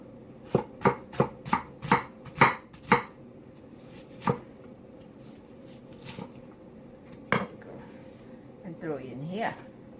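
Cabbage being chopped into small pieces with a knife on a cutting board: a quick run of sharp, close chops, then a few scattered single chops, with a voice talking near the end.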